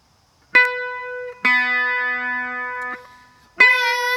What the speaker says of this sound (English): A descending octave sounds like this.